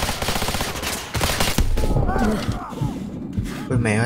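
Gunfire from a pistol in Call of Duty: Modern Warfare 2 Remastered, rapid bursts of shots loud and close, mixed with game music and effects, with a person talking over it.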